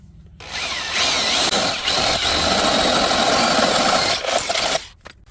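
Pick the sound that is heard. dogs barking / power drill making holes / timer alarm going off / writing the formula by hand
power drill making holes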